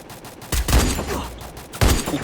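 Loud video-game gunfire bursts in two clusters, a heavy volley near the start and another sharp burst near the end, with rattling shots between.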